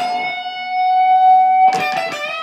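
A single electric guitar note sustains long and steady through a TBX control, swelling slightly before a few new notes are picked with a bright, driven edge.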